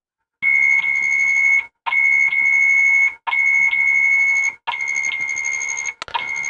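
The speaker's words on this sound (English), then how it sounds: "it's missed the feeding and it sounded an alarm there" A smart wifi pet feeder's loud electronic alarm beeps in four sustained, steady-pitched bursts separated by short gaps, sounding after a missed feeding, with no voices.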